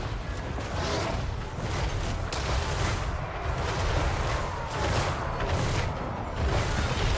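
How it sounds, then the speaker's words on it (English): Artillery gunfire in the battle game Total War: Warhammer, a dense, continuous rumble of distant booms and shots layered over one another, steady and loud throughout with no talk. "I love just seeing the gunfire from nowhere."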